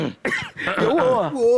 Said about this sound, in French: Je me racle la gorge.